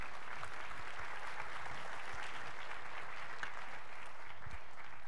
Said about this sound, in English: I think the spoon deserves a big round of applause,